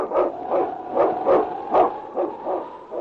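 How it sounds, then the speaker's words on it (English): King, a husky lead dog of the North Country, barks in a steady run of sharp, evenly spaced yaps, close and loud, with no voices over them. "It's King, swiftest and strongest lead dog of the North Country"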